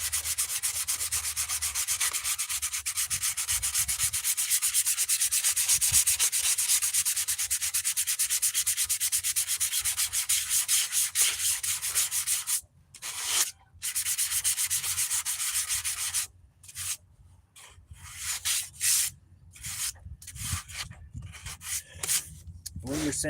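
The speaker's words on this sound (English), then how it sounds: "When you're sanding, try to go in circles or ovals or S curves." Steady hand sanding of paint on a new helmet, a continuous raspy scrubbing on a hard surface that breaks into shorter rubbing strokes with brief gaps toward the end.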